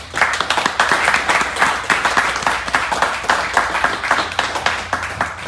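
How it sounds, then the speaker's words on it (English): A panel audience at a barber school claps steadily and fairly loudly throughout, a dense, even patter of many hands with no voices over it. "Can we give them a round of applause?"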